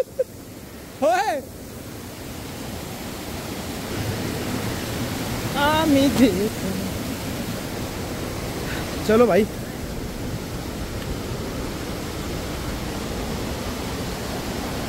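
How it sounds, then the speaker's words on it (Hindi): Steady broadband rush of a small waterfall near Landour, Dehradun, with modest flow since it has not been raining, filling the whole clip at a constant level while someone speaks briefly over it. "ये रहा भाई हमारा झरना"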